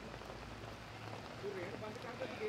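Light rain falling at the Winnipeg Peace and Justice Festival 2014, an outdoor event, giving a faint, steady hiss of drops under distant voices and crowd noise.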